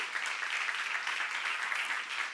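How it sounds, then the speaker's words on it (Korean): An audience at a church seminar claps together in dense, sustained applause, a steady, even patter that carries on without a break. "박수 한번"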